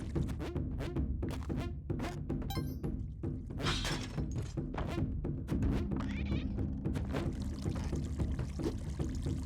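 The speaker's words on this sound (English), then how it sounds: "It's a cat, right?" Game cat in Spelunky 2 meowing among busy gameplay effects, with repeated clicks, thuds, shattering and pouring sounds around the short cries.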